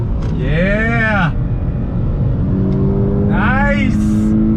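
A 2020 Toyota 86 Hakone Edition's engine revs up and down twice as it brakes and downshifts on a twisty road, loud and close inside the car, with a constant road drone and a person talking between the blips.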